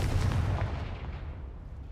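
A single heavy blast from the Confringo spell in the game Hogwarts Legacy booms loudly at the start and then rumbles away into a fading tail, with no voices over it.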